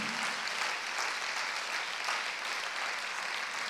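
A church congregation applauds and cheers for their fathers during a sermon. The clapping is steady and crowded, with a hall-like wash, and continues throughout at moderate volume.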